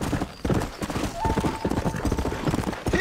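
Horse hooves clip-clop steadily on the ground in Red Dead Redemption, a loud, close, continuous rhythm of hoofbeats with a brief tonal whinny-like sound partway through.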